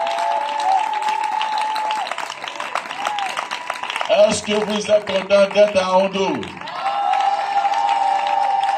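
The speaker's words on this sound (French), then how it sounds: "Est-ce qu'on peut acclamer le Seigneur pour son serviteur?" A church congregation applauds and cheers, sustained clapping and shouting that swells into rhythmic claps, while someone speaks over it into a microphone.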